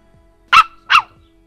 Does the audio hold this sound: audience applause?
no